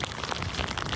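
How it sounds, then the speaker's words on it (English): Heavy rain from a hurricane coming down in sheets, a dense steady hiss of drops pounding surfaces, brief and loud with no voices. "The rain definitely coming down in sheets"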